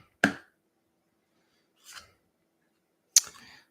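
Tarot cards from a Light Seers deck being cut and shuffled by hand, heard as three short, separate papery snaps and riffles spaced over a few seconds in a quiet room.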